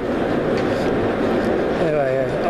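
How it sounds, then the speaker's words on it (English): Class 379 electric train at a London station, heard as a continuous low rumble with steady mechanical hum and a brief rising whine near the end, close by and loud. "This is a class 379."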